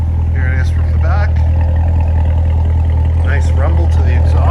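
A 2019 Chevrolet Corvette Z06 3LZ with a seven-speed idles close by with a deep, steady exhaust rumble, while someone talks over it.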